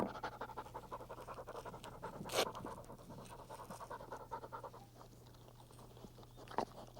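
A small dog panting close by in quick, steady rhythmic huffs over several seconds, fairly faint, with a couple of brief louder snorts or mouth sounds mixed in.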